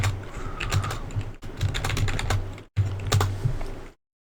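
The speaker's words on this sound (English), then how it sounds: "we enter in the password phrase that we created for the cakey.pem file" Password typed on a computer keyboard at an Ubuntu server setup, fast close key clicks in three short runs separated by brief gaps, over a low steady hum, then silence.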